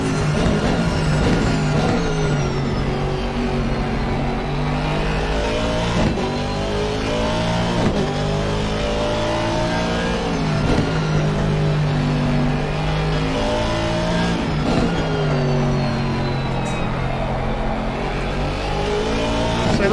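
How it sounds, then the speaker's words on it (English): A race car engine in a video game roars steadily from onboard at Zandvoort, revving up and down through gear changes with a sustained, buzzing mechanical whine and no talk. "Go on board and listen to the tones of that engine."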